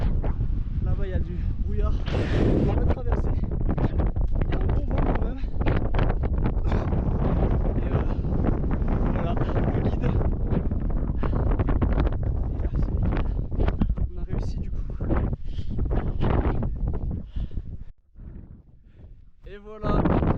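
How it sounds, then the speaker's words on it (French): Strong wind roars and buffets the microphone almost continuously near the 2838 m summit of Mont Valier, heavy rumbling gusts that drop briefly near the end, with voices faintly underneath. "Il y a un bon vent quand même."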